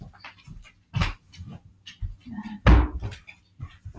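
Dogs being led out of a room pant and shuffle close by, with heavy breaths, a soft whimper and a bumping thud like a door or cupboard knock, and no talking.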